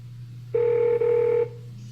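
A Google Home Mini smart speaker placing a phone call gives off a loud steady dialing tone, about a second long with a brief break midway, over a low constant hum.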